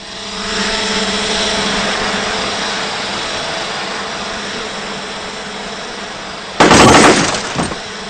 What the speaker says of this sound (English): I'm going to blow this thing up